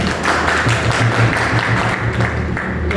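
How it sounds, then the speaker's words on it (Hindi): Sustained applause from an audience at an office celebration and training party fills the room, steady and dense for several seconds with no break. "पहले तो सर लोगों के लिए जोरदार ताली चाहूँगा"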